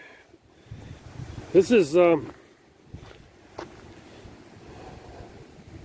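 Strong gusts of a wind storm buffet the microphone outdoors with a steady rushing roar, while someone talks briefly over it.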